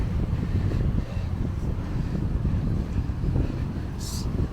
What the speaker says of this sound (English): And you can hear the wind.